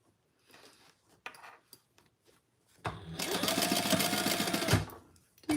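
A few light clicks and taps lead into a sewing machine stitching slippery fabric in one loud, close run of about two seconds before stopping.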